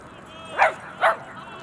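A suspicious dog giving two short, sharp yipping barks about half a second apart, close and fairly loud against a quiet background.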